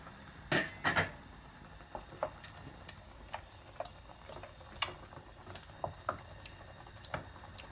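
Rosemary being stirred into homemade spaghetti sauce in a pot, heard as a couple of sharp utensil knocks near the start followed by sparse, light clinks and taps against the pot in a quiet kitchen.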